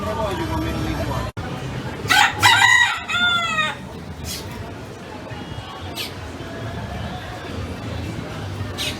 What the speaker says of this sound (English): Roosters in the dining room.